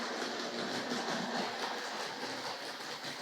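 Hornby model High Speed Train from the mid 1970s running on a model railway layout, giving a steady close rolling rumble with faint rhythmic clicking of wheels over track joints throughout.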